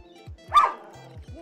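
A dog barks once, loud and close, in the middle of a live Cities Skylines gaming stream, with a few softer yips and whimpers around it over faint background sounds.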